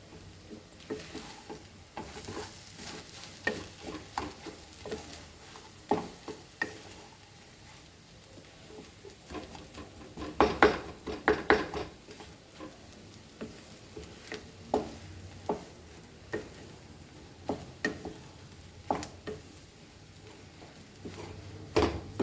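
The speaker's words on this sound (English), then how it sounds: "Mash and add this potato." Boiled potato being mashed and stirred into kachori stuffing in a pan, giving soft squishy pats and scraping stirs in an irregular rhythm, with a faint sizzle underneath.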